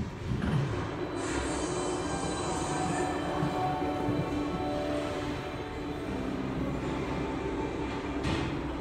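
The London Mail Rail underground train runs through tunnels beneath the Mount Pleasant sorting office, giving a constant loud rumble with rattling wheels and occasional high squeals, enclosed and close.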